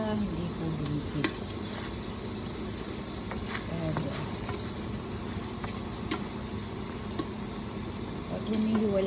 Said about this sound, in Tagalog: Halo ko po siya para hindi po lumipit.